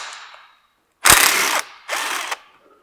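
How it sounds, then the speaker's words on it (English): A hand ratchet clicks in two quick bursts while loosening a 16 mm carrier bearing bolt under a B8.5 Audi S4, close and crisp, with no speech. "So we're going to remove this 16 millimeter bolt."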